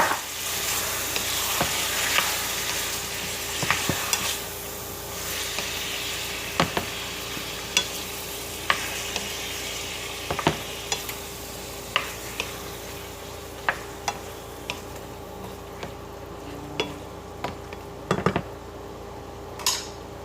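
Chicken pieces for adobo stir-fried in a pan, with a steady close sizzle and frequent clinks and scrapes of a utensil against the pan.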